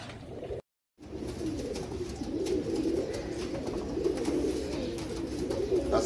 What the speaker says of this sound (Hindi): ये मेरे नीली कड़ी वाले कबूतर चंद्रखानी ओरिजिनल